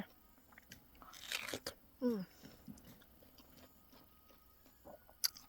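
Someone bites into a crisp, freshly picked mango, giving a few close crunching bites and chewing sounds, with a person's voice faintly around them.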